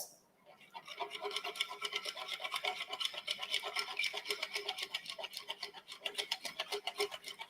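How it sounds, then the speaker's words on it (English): Eggs, warm milk and yeast batter are whisked in a bowl, giving a steady run of quick, rhythmic scraping strokes that stay close and fairly even throughout. "you have to keep on turning it, whisking it until it's well combined"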